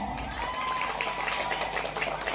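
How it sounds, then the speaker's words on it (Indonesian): An audience of Islamic boarding-school students at a speech event gives steady, dense applause that holds at an even level, with a faint tone running underneath. "Ayo kita bakar semangat bersama-sama, tepuk tangan"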